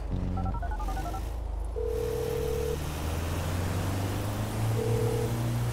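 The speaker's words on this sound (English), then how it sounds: "I gotta make a call" Cell phone being dialed in Grand Theft Auto 5, with several quick electronic key tones followed by steady beeping call tones over a loud, constant game background hum.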